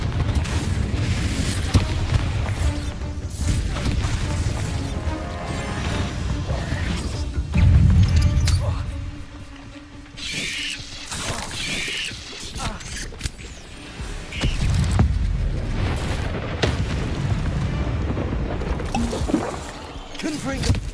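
Repeated Confringo fire-spell blasts from the Hogwarts Legacy video game, heavy booming bursts that recur across the stretch over dense, busy game sound with a voice calling out.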